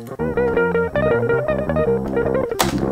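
Two unprocessed electric guitar rhythm tracks, one played on the neck pickup and one on the bridge pickup, strum dense sustained chords in a steady, driving pattern, loud and continuous with no voices.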